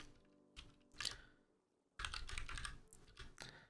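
Mechanical computer keyboard being typed on, short bursts of crisp clicking keystrokes with a pause between, fairly near and quiet.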